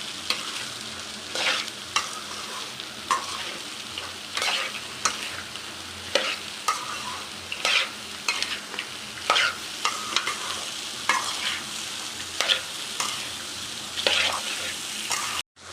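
Chana dal tempering in a pan with salt mixed in, sizzling throughout as a spoon scrapes and stirs in frequent brisk strokes, close and fairly loud, no talking.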